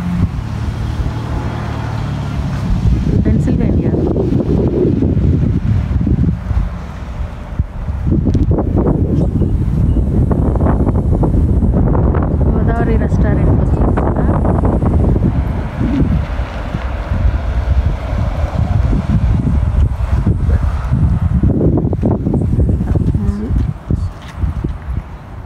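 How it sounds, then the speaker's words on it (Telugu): Strong cold wind blusters across an outdoor mall parking area in Pennsylvania, a loud steady roar buffeting the microphone throughout, with people talking over it. "విండ్ బాగా ఉంది చలిగా ఉంది"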